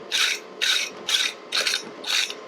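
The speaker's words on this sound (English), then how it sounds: "At the end of a heat, it's nice to just run a little scrub over, keep all the worst of the scale off." Hot forged scrap-steel blacksmith tongs are scrubbed to knock off scale at the end of a heat in a home forge, giving five rhythmic, close rasping strokes with brief pauses between them.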